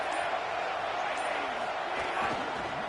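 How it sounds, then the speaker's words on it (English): Crowd noise in College Football 27, a steady dense roar of a stadium crowd rising in volume, continuous and fairly distant with no clear individual voices. "This crowd rising up, sensing that its defense needs some help."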